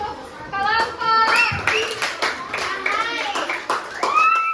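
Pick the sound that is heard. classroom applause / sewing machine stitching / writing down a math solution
classroom applause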